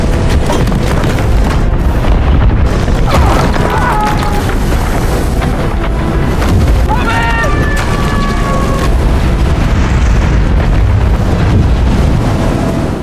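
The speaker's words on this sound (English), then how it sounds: "the mountain on the north side of the canyon began to loosen." A mountainside collapses into Norway's Geirangerfjord as a film sound effect, heard as a loud, continuous deep rumbling roar with wind-like noise throughout and brief higher creaking streaks.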